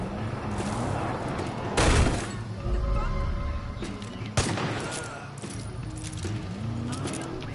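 Gunfire in Far Cry 5: a couple of loud, sharp shots stand out from a busy game mix with engine rumble and metallic rattling, with a voice speaking briefly.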